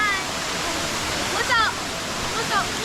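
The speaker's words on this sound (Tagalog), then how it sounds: "Ayan yung falls sa baba." Waterfall at a scenic falls below a viewpoint, a steady broadband rush of falling water heard from a distance, with faint bird-like chirps and a voice talking over it.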